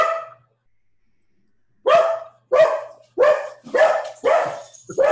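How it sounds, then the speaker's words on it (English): A dog barks in a steady run of about six loud, close barks after a brief earlier yelp and a pause, heard during an online city commissioners meeting. "Is that your dog?"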